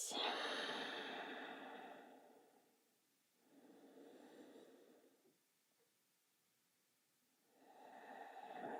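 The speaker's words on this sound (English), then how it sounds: "Breathe it out." Slow audible breaths during a yoga child's pose, a long airy exhale followed after a pause by a softer breath and another beginning, close and alone with silence between.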